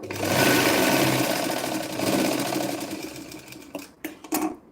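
A sewing machine stitches tucks on a blouse in a steady, loud, close run of rapid mechanical whirring, then slows into a few short stop-start bursts near the end; no one speaks.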